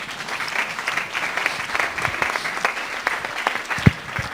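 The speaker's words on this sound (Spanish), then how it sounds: "Damos un aplauso al Señor." A church congregation claps for the Lord during a sermon, a sustained round of many hands with a few sharper individual claps standing out near the end.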